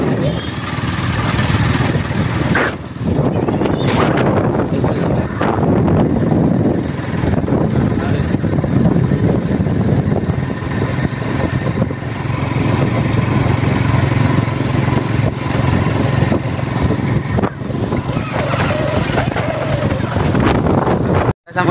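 A motorbike ridden along a village road, its engine droning steadily and loudly close by throughout, mixed with heavy wind buffeting on the microphone and a few brief dips.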